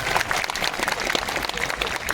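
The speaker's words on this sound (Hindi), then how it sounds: "तालियां बड़ी करिए, थोड़ा और बड़ी करिए" Loud, dense applause fills the hall at a Hindi poetry recital, a kavi sammelan in Kawardha, with steady crowd clapping and a faint murmur of voices underneath.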